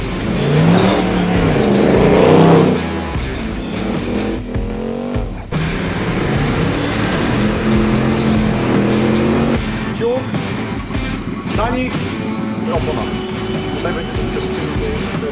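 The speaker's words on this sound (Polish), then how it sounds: "posłuchacie sobie oczywiście V8 i zobaczycie czy umiem jeździć" A V8 car engine revving hard while driving, loud and close, with a steady roar and shifting pitch. People talk over it.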